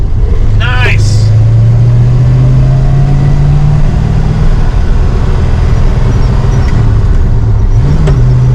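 A car with a 426 Hemi engine hums steadily at close range, rising and settling in pitch as the vehicle drives, with a brief voice near the start.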